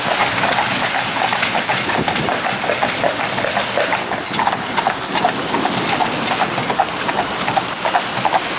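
A pair of Friesian horses trots through town, their hooves clip-clopping in a steady, busy rhythm on hard pavement, close and loud throughout with a constant background hiss.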